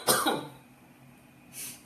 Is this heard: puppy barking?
no